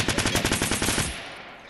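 Rapid automatic gunfire in Fortnite during a squad match, a burst of evenly spaced loud shots for about a second that then trails off into a fading echo.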